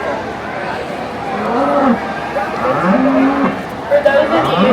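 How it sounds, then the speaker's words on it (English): A Holstein dairy cow moos several times in long, drawn-out calls close by, with faint voices and crowd chatter in the background. "This cow is what we call a Holstein"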